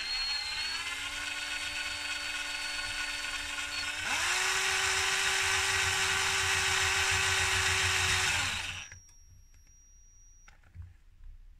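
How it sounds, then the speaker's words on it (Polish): A small high-pitched drill whines steadily, boring a hole in a model railway layout, its pitch dropping and the tone deepening midway as it bites, then it winds down and stops, leaving quiet. "Jak tylko wiertełko przejdzie, od razu wykręcamy wiertełko"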